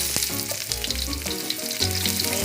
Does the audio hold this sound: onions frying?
yes